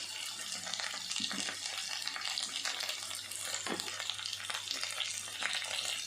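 Onions and green chillies fry in a pan of oil for an ivy gourd (dondakaya) fry, giving a steady, moderate sizzle with soft stirring clicks and scrapes throughout. No one talks.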